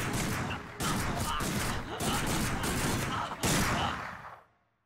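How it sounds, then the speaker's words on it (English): Repeated automatic gunfire in the shooter video game Binary Domain, loud sustained bursts in several volleys with brief gaps, ending abruptly. "he shot him like 18 times"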